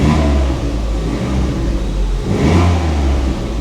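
A Ford Fiesta ST200 with a cold engine and suspected timing issues revs loudly and close, dipping briefly before a second rise in engine note, with no voices.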